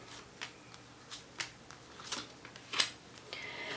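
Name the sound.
shuffling tarot cards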